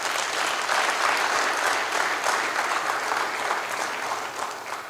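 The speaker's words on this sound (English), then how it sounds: "give you a round of applause" Audience at a formal banking event in Nigeria breaks into strong, continuous applause, a dense even roar of clapping that holds for several seconds and eases slightly at the close.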